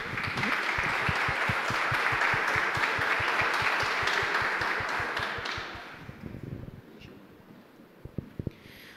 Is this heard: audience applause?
yes